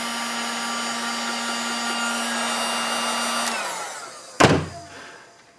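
A heat gun blows on heat shrink tubing while modding a Bitspower dual pump top and D5 dressing kit, a loud steady whirring hiss with a fan hum, then it cuts off and a brief clunk follows.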